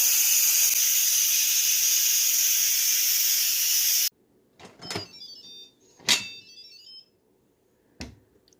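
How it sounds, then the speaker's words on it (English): Steam hisses loudly and steadily from an Instant Pot's pressure release for about four seconds, then cuts off abruptly, followed by a few scattered clatters and knocks in a quiet kitchen. "So the Instant Pot just went off. Gonna see if there's any steam in here."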